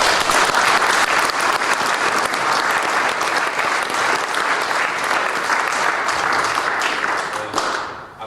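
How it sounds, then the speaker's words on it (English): An indoor audience at a civic reception for a rugby league club applauds warmly, dense sustained clapping from many hands that holds steady and then tapers off at the end. "I think we all deserve a round of applause for that"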